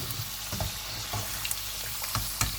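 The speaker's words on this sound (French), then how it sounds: "Et on continue la friture." Potato fries frying in hot oil, a constant soft sizzle with faint bubbling and a few light clinks of stirring scattered throughout.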